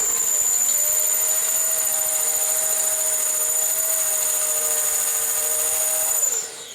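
A power drill whines steadily at close range for several seconds while drilling on a Harley chopper, its high motor tone holding even before spinning down at the end.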